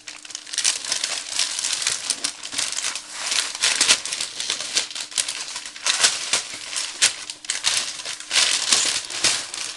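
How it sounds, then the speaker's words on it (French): Continuous crinkling and tearing of paper being torn off a package, dense and busy for the whole stretch, close by with no talking. "je vais hors caméra pour enlever le papier"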